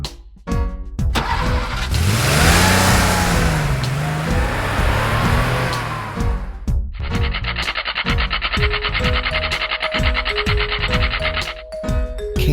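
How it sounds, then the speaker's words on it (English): A cartoon taxi's engine revs and drives past with a loud rasping, rising and falling drone, followed by sustained electronic tones and rhythmic beats. "Taxi."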